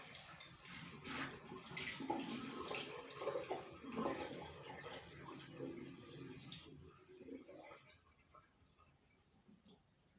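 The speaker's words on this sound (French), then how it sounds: "on commence par mouiller les cheveux" Running cold water wetting hair during a shampoo, a steady close splashing gush that cuts off sharply after several seconds, leaving only faint drips and quiet room sound.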